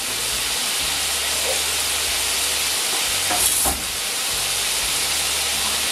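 Wine poured into toasted flour in a hot pan, a steady broad sizzling hiss throughout with a brief louder burst midway and faint clinks.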